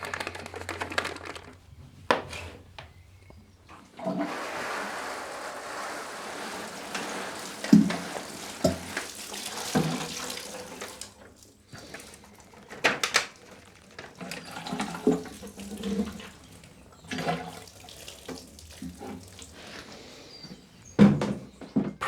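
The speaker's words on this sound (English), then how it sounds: "I'll give that a bit of a wash out" Water runs and splashes in uneven bursts while a plastic seed propagator tray is rinsed out, with knocks and clatters of the tray handled under the flow.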